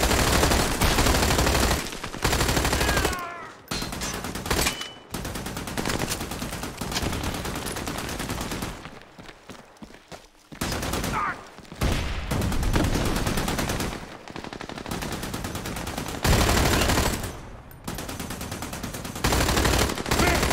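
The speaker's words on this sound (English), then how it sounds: "Jump on that machine gun." Machine gun fire in the Xbox 360 game Army of Two: The Devil's Cartel rattles out in loud, repeated bursts separated by short pauses over about twenty seconds.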